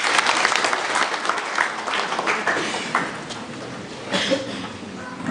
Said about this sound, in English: Can you give me a round of applause as they come?